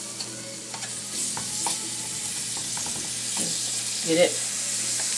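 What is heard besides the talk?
fish frying in olive oil in a pan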